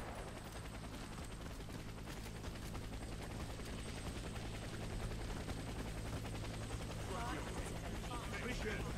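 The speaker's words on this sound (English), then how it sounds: "Get to the helicopter for extraction." A helicopter's steady rotor drone fills the background during a Warface co-op extraction, mixed with rattling gunfire bursts while voices talk over the action.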